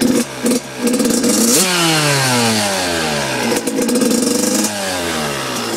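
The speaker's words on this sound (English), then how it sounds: "This bike does not stall. Very healthy running bike." A 2002 Suzuki RM85 two-stroke dirt bike runs close by with a loud, raspy engine that revs up sharply several times, pitch sweeping up and down between bursts of throttle.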